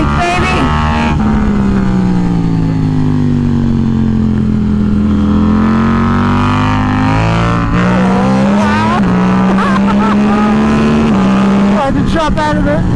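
A KTM RC8C race motorcycle engine drones loudly and steadily, its pitch sliding and rising as the rider works the throttle and shifts, with a voice heard briefly over it.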